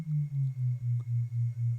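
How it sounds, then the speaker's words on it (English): Binaural beat sine tones on a 200 Hz base pulse steadily at a 4 Hz beat, giving a soft, low, smooth hum that swells and dips about seven times, clean and alone with no voice. "So automatically there will be another frequency added now that is playing in 200"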